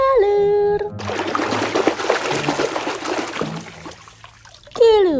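Muddy toy cars are rinsed in clean water, with several seconds of close splashing and trickling set between short electronic musical tones.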